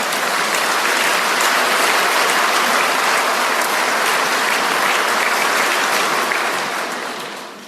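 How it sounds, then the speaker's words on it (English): Sustained applause from a large audience at the Nestlé Annual General Meeting of shareholders, a broad, even roar of many hands that continues steadily and then gradually fades in the final second. "I think this justifies a round of applause."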